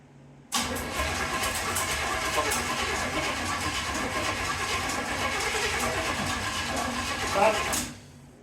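A 1931 Ford Model A Coupe engine cranks and catches, then runs steadily at a loud, close idle for about seven seconds before cutting off abruptly.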